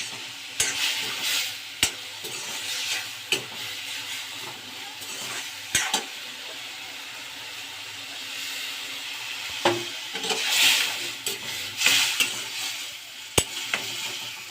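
Soya chunks sizzle in a pan with tomato masala while a spoon stirs and scrapes, steady frying hiss broken by periodic clanks and scraping strokes, close and clear with no talk.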